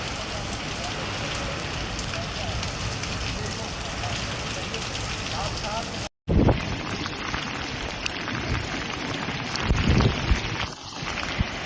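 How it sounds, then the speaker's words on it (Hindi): Heavy rain falls on a village in a dense, continuous hiss of drops on surfaces, with a brief cut partway through before the downpour resumes just as strong. "आज हमारे इलाके में बहुत ज्यादा बारिश आई है।"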